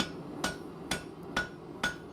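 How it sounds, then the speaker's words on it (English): Hammer blows on hot metal while a blade is forged, four sharp ringing strikes evenly spaced about half a second apart, close and clear over quiet background. "A hammer"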